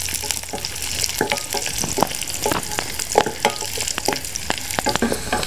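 Almonds, cashews and raisins fry in a pan for a sweet pongal, a busy sizzle broken by frequent scraping and clinking stirs that keep an uneven rhythm, close and fairly loud with no talking.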